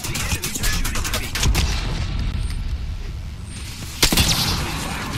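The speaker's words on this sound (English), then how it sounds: "The enemies are shooting at me!" Enemy gunfire in the APECS Leghorn video game: a dense fusillade of shots and booms runs through the whole clip, with a louder burst near the end and no talking.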